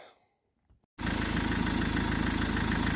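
A Renault Laguna 2 1.9 dCi diesel engine idles while warming up, a loud, steady, close-up rumble with an even knocking pulse that cuts in suddenly after a second of near silence.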